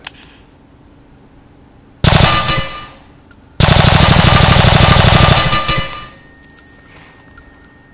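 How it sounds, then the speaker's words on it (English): Full-auto tracer gunfire rings out in two loud, close bursts of rapid shots, the second longer, then fades into ringing echoes and scattered clinks. "Trapcode Particular tracer rounds. Let's go full auto."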